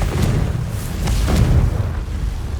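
A Confringo spell blast in the Hogwarts Legacy video game, a loud, close, rumbling boom that swells, holds for a couple of seconds and then rolls off.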